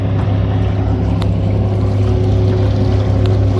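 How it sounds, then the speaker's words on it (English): An electric trolling motor runs on LiFePO4 lithium batteries, pushing a small boat across open water in a steady, loud, close drone with a constant low hum and broadband wash and no breaks. "But we are underway. Local time is 10:27 a.m. Motor's going good."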